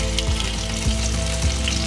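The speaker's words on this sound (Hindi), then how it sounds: "पैन में मैं 3 टेबलस्पून ऑयल डाल रही हूँ। उसके बाद जो मैंने टमाटर चॉप किया था वो डालूंगी।" Chopped tomatoes hit hot oil in a pan and sizzle steadily, a close, continuous frying hiss with a few soft bubbling pops and no voices.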